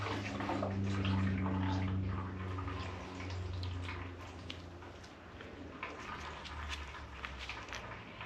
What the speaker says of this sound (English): And I'm draining it straight into a bottle